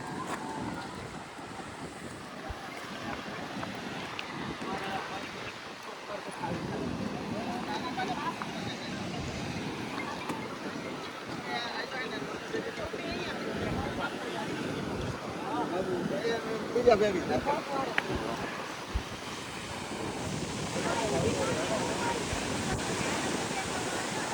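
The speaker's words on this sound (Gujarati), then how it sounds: "મોજા કેવા સરસ બતાવે તમને" Sea waves roll in along the shore at Dwarka, a steady wash of surf with wind buffeting the microphone throughout and faint voices in the background.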